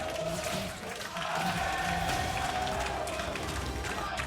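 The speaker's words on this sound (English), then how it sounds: "The crowd in Berlin is alive with the name of Flamingo Esports" A packed Berlin arena crowd at the 2019 League of Legends World Championship play-in stage roars and cheers in a dense, sustained wall of noise, with a voice faintly audible beneath it.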